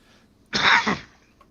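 A single sharp sneeze, loud and close, bursting out and fading within about half a second, with quiet before and after.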